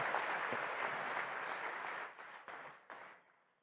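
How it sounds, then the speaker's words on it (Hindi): An audience at a live agricultural exhibition event in Nagpur applauds to welcome a guest, a dense burst of clapping that fades out into a few scattered claps. "एक बार ताली बजा के उनका स्वागत कीजिए,"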